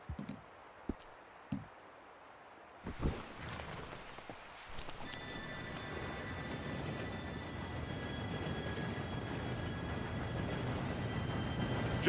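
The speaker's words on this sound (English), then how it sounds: "Train should be here any minute now." A train arrives in Red Dead Redemption 2. A few horse hoofbeats come first, then a heavy rolling rumble builds and grows steadily louder, joined by a sustained metallic whine.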